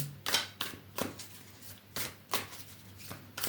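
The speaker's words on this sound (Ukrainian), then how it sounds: "Давайте витягнемо одразу дві карти." Close, soft swishes and slides of tarot cards being pulled out one after another, in short bursts separated by brief quiet pauses.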